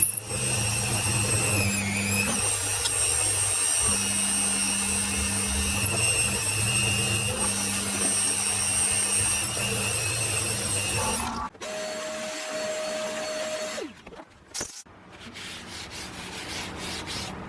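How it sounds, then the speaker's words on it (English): A steady, grinding machine whine with rubbing, sanding-like texture runs continuously while drilling holes in a cast aluminium milling pallet, then cuts out abruptly, followed by brief quieter mechanical noises and a short tonal hum. "I don't think you want to watch me drill all those"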